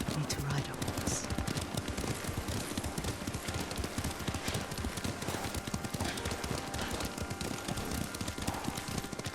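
Horse hooves clip-clop at a steady riding rhythm in the video game Ghost of Tsushima, a continuous fast patter of hoofbeats with a dense sound bed behind it.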